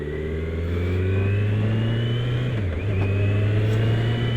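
A Kawasaki Z900 four-cylinder 900 naked motorcycle engine holds a loud, steady rev close by, dipping briefly in pitch about halfway through before climbing back to a sustained hum.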